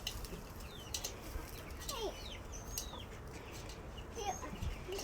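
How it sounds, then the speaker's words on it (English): Chickens cluck in a farmyard where a goat is kept, with a few sharp clucks and squawks over a steady rustling background, fairly close, with faint movement noises. "that chicken looks so much like Houdini"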